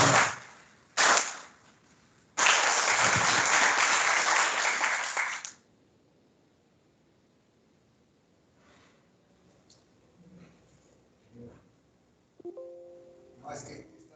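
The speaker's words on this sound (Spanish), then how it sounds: "Vamos a recibir con un aplauso a nuestro profesor." Audience applause greets a professor introduced at a conference on artificial intelligence in industry, with a short burst of clapping, a brief pause, then a louder sustained round of about three seconds that stops abruptly, followed by quiet room sounds and faint talk.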